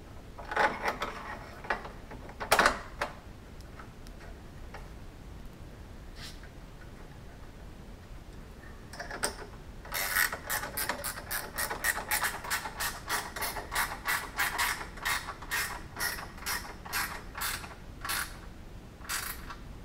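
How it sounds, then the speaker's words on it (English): A ratchet wrench drives a large 192mm bolt, dabbed with anti-seize lube, into a bushing hole; after a quiet stretch comes a steady run of rapid, evenly spaced clicks, close and moderately loud, with a few scattered knocks earlier. "Now we can screw in the big 192mm bolt, with a dab of anti-seize lube,"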